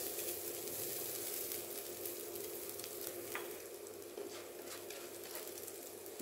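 Onion and garlic sautéing in oil in a pan, a loud continuous sizzle with occasional crackles and small stirring clicks, close up and without speech.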